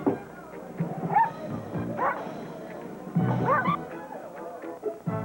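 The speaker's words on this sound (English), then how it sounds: "Dogs." Dogs barking in a Bud Light beer commercial, several yips and woofs scattered across a few seconds, mixed in with voices talking.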